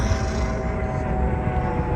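A tour helicopter over the Las Vegas Strip produces a steady, loud engine and rotor drone that fills the whole stretch without pause, with no talking.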